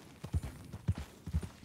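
A horse's hooves clip-clop at a walk in Red Dead Redemption 2, three evenly spaced pairs of soft, close hoof strikes.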